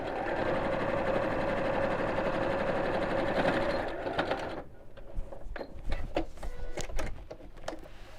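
A sewing machine stitching a fabric storage box runs steadily and close for about four seconds, then stops, leaving short scattered handling clicks and rustles of fabric.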